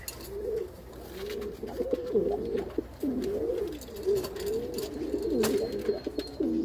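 Pigeons coo steadily at close range at a pigeon loft, with overlapping soft throaty calls and faint rustling in the background, and no one speaking.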